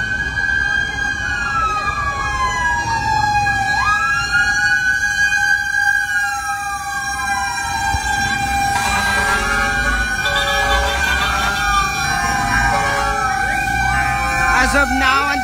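Several fire truck sirens wail and sweep over one another at a fire in Santa Cruz, Manila, loud and continuous against a rumbling street background.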